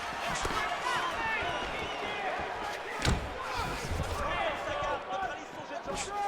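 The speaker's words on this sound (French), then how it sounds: "Il touche sa cible avec ce coup de poing du droit." Punches landing in the fighting video game UFC 3, with repeated thuds and one sharp louder impact, heard under busy crowd ambience and game commentary.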